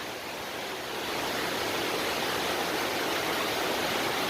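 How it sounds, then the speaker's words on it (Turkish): Tar Deresi waterfall in Rize, Turkey, a steady broadband roar of falling water heard close, swelling slightly after the first second and then holding constant with no voices. "bu aşağıda yazılan Tar Deresi şelalesine geldik"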